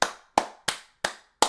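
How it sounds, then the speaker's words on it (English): Hands clapping five times in a slow, even rhythm, each clap a sharp, close, fairly quiet slap with a short decay, alone with no talk. "I'm clapping for you."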